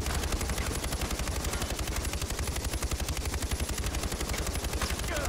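Sustained rapid-fire gunshots in Far Cry 4, a steady fast rhythmic stream of shots lasting the whole stretch at even loudness, with no pauses.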